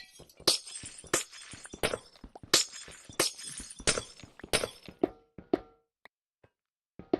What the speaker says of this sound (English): And do I hate mining glass?